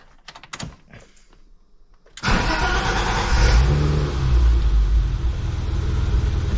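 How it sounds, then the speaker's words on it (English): BMW E30 six-cylinder engine just after a fuel filter replacement: a few seconds of clicking and cranking, then the engine catches at once and settles into a loud, steady idle with a slight rev, and no talking. "I'll go ahead and crank this over"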